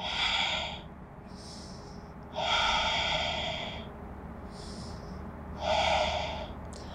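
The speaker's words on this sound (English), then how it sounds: "Just breathing here." Heavy breathing during a yoga practice held in downward-facing dog: a few loud, breathy inhales and exhales about two to three seconds apart, close and alone with no talking.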